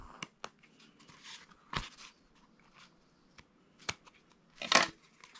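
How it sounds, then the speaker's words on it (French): Small scissors snip off a protruding thread on a handmade notebook, several quiet crisp clicks and snips scattered over a few seconds in a near-silent room. "je vais venir découper mon fil qui dépasse"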